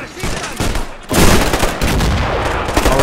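Gunfire in a battle video game set in 1928 Nicaragua, with U.S. Marines fighting Sandinistas: dense, loud bursts of rifle and machine-gun fire that swell into a sustained barrage.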